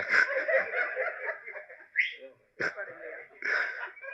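Whistles ring out from audience members seated at the back during a book launch event, short shrill bursts mixed in among snickers and chuckles while people talk in the hall.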